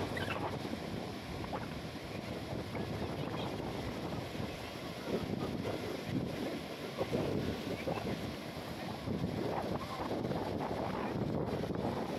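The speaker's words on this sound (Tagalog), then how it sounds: "Grabe, alon. Ganito ang panahon ngayon sa Bicol," Strong wind buffets the microphone as big waves roll and churn in stormy weather off Bicol with low pressure nearby, a steady loud roar throughout with surging swells and no talk.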